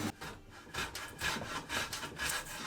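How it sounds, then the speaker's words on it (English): Hand plane taking shavings off the end of a wooden scaffold board for a rustic coffee table, with a series of rhythmic scraping, rasping strokes close by, about five passes with brief pauses between them and no talking. "I took a few shavings off each end of the board."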